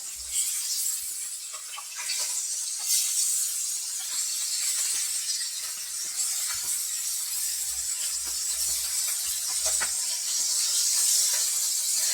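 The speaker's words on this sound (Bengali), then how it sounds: "মাছটা একটু এপিট ওপিট করে ভেজে নিতে হবে।" Fish fries in a pan for Bengali macher jhal, giving off a continuous, even sizzling hiss with faint crackles and no talking.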